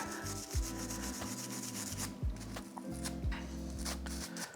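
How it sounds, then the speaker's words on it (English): A brush scrubs dry over a Ruger Mark IV pistol bolt, working the chamber face and channels in quick, close, repeated back-and-forth strokes with a gritty rasping texture and brief pauses between passes. "we're just gonna be dry brushing everything, the chamber face in every channel, the top, the bottom, anywhere gunk could get"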